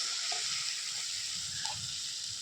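Water added to pre-boiled potatoes for a vegetarian aloo dum curry sizzles in a pan with a steady, bright hiss. Faint stirring scrapes sound underneath, and no one speaks.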